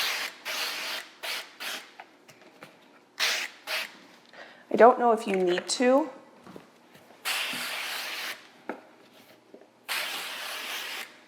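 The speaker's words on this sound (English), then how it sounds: "I'm spraying them in my sink so I don't have to clean up a big mess after." Cooking spray hissing onto a muffin pan held in a kitchen sink, several short bursts of close spray with pauses, and a person speaks briefly midway.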